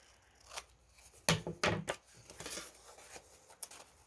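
Scissors snip paper while trimming the edge of a paper hexagon pencil holder, several short, crisp cuts spaced irregularly, quiet and close, with no talking.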